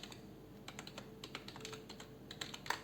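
Text typed on a computer keyboard, a quick irregular run of soft key clicks, close and quiet with no talking.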